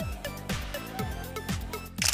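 A camera shutter clicks in a steady run of about eight quick, evenly spaced snaps, each one sharp and close, as photos are taken during a tourist visit in Banggai Laut.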